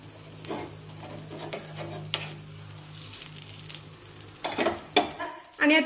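Sorghum flour appe cooking over a low flame in an appe pan: a quiet, even sizzle with a few light metal clicks, then several louder sputtering bursts near the end. No voices.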